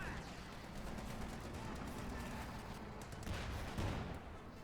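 Dense battlefield gunfire and artillery rumble from a Company of Heroes 2 World War II match with Wehrmacht against US forces and a Sherman tank in action, a steady wash of distant shots and blasts with talk over the top.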